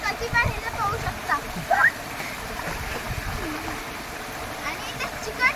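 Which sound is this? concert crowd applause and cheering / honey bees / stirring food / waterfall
waterfall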